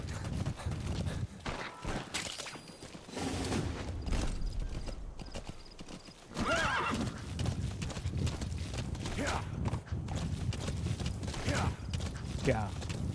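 In the video game Metal Gear Solid V, a horse's hooves clop in a steady galloping rhythm with several whinnies and neighs, close and loud, while people talk over it.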